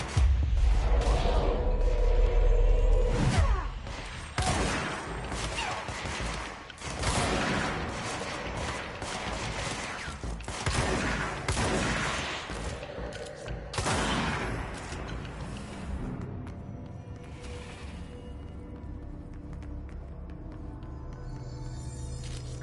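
Soldiers fire weapons in the video game Control, with a heavy loud burst opening into a long run of rapid gunshots and clattering mechanical noise that slowly thins out, under occasional voices.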